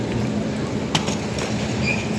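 A train runs on rails with a steady, fairly loud rumble and faint rhythmic clacking, plus a brief sharp click partway through.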